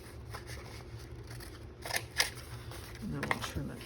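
Scissors snip through paper in a few quick cuts, close and fairly quiet, with soft handling rustles of a paper craft piece between them.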